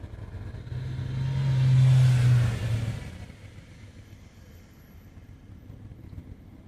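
A Ford Zephyr V4 car moving in traffic: the engine swells into a revving pull, then eases back to a softer running hum, heard from inside and alone.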